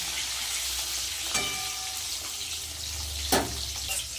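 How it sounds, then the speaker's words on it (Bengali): Eggs fry in a pan with a steady broadband sizzle, broken by two sharper bursts as the oil spatters or the pan is moved, fairly close and with no talking. "ভাগে ভাজতে হবে অনেক কটা ডিম"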